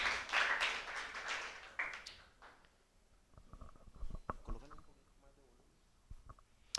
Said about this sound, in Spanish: que del tamaño de ese agradecimiento así sea su aplauso